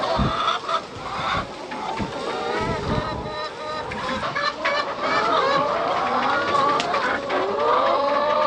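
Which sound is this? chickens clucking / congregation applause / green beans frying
chickens clucking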